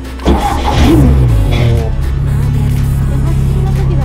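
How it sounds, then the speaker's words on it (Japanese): A race car engine, started with a red button, cranks and fires up with a sharp burst, revs briefly, then settles into a loud, steady idle rumble close by. "赤いこちらのボタンでエンジンがかかります。"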